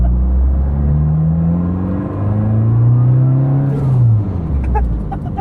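A modified Honda Jazz GE8 tuned to about 480 hp revs hard up and down, its engine tone climbing and falling as a loud, close drone with faint talk in the car.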